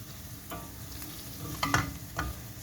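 Vermicelli toasting for rice pilaf gives a soft continuous sizzle in the pan, with a few scraping stirs from a spoon that grow louder toward the middle of the stretch.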